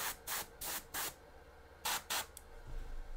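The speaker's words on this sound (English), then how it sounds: "I'm spraying in a motion that always goes off the miniature" Airbrush spraying primer onto a miniature in short, sharp hissing bursts, six quick pulses of a second or less with brief silences between, close and steady.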